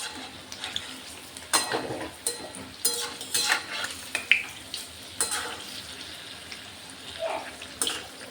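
Jackfruit fritters sizzle and crackle in hot oil, with intermittent scraping and stirring bursts over a steady frying hiss.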